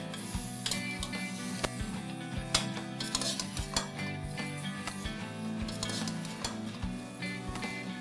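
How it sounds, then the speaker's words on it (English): Whole spices and turmeric with garam masala sautéing in oil in a pan for mutton curry, a soft steady sizzle with frequent light clinks of a spoon against the pan, steady and close with no talk. "I'm going to saute this further for a minute or two"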